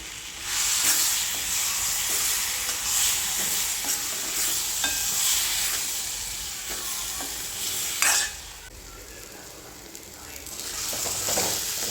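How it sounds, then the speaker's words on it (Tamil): Steady sizzling of tomato paste sautéing in a hot pan for Tamil garlic kuzhambu, with occasional scraping and stirring sounds, continuous and close, no voices. "அதை ஊற்றி பச்சை வாசனை போகிற அளவுக்கு அதையும் வதக்கி விடுவோம்"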